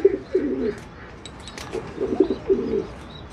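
Domestic pigeons coo in soft, low bursts close by, two cooing phrases with a pause between them, along with light rustling and faint chirps.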